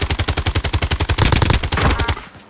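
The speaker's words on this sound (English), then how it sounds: "Oh, someone's shooting at me." Rapid automatic gunfire from Call of Duty: Warzone, a loud, steady string of close shots in an even rhythm that grows denser near the middle and cuts off at the end.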